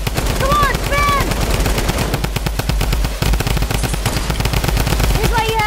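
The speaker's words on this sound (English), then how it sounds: "This is why you have a bunch of drum guns" Drum guns firing rapidly in an online shooter video game, a dense, loud, continuous burst of automatic gunfire throughout, with excited players shouting over the shooting.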